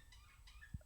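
A pet budgie beside a desk gives a few faint, high chirps and short warbles, quiet and slightly distant in a still room with no talking.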